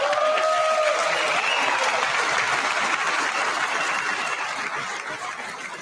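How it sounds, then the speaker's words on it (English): Sustained applause from the audience at the State of the Union address, a dense, steady wash of clapping that fades slightly toward the end, with faint talk underneath. "I wasn't sure if anybody even on this side was going to applaud for that."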